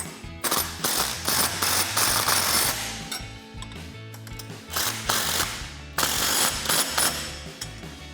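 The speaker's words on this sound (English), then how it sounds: "Then you can grab a 19mm socket and wrench to tighten those down." A 19mm socket wrench ratchets repeatedly while tightening a nut on a Mammoth dual steering stabilizer kit being installed on a Jeep Wrangler JK, in several bursts of rapid, close, loud clicking separated by brief pauses.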